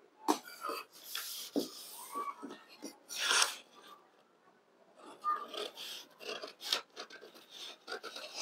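Scissors cut a paper pattern for a blouse, making a series of close, crisp snips and rasping paper scrapes in uneven bursts with short pauses between them.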